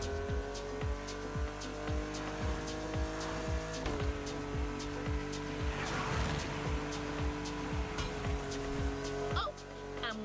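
In The Crew Motorfest, a car drifts through a touge duel: a sustained engine drone rises and falls with shifting revs while long tire squeals stretch across the run, with game music underneath and a brief voice near the end.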